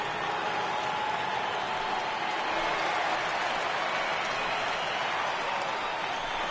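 Crowd of over 39,000 at a Red Sox vs Yankees baseball game in a stadium, roaring and cheering on their feet as a steady, broad wash of noise with scattered applause.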